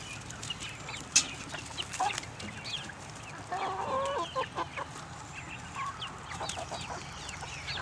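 Backyard chickens cluck softly while pecking at service berries put out for them outdoors. Scattered, fairly faint clucks and short calls come and go over a low ambient background.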